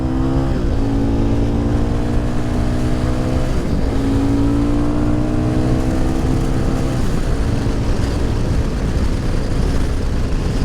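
A Cross Country 300 motorcycle accelerating through the gears, its engine note climbing steadily then dropping at each shift, repeated across several shifts, loud and close with steady wind rush.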